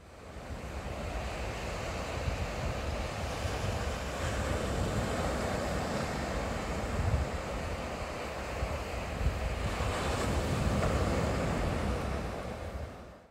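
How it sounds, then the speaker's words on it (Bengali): Steady sea surf rolls and washes ashore near Aberdeen, Scotland, stirred by small passing ships, a broad continuous roar with wind buffeting the microphone and a couple of slightly louder wave surges. "তাহলে শুনুন একটু সমুদ্রের সাউন্ডটা।"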